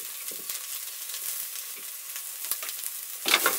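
Onion, garlic and spices frying in oil in a pot over campfire coals, a steady soft sizzle with faint crackles and a brief louder burst of stirring near the end, no voices.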